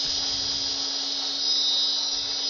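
A wooden Christmas tree spins on a wood lathe while being sanded, giving a steady, high, continuous whine with a low hum underneath, unbroken and fairly loud throughout.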